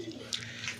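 Black Rajshahi Giribaz pigeons in a loft give a soft, brief coo, close and fairly faint.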